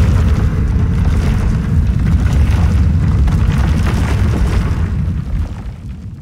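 A granular earthquake sound effect built in Phase Plant with added room reverb: a loud, deep rumbling roar with crackling texture that holds steady and then fades slightly at the end.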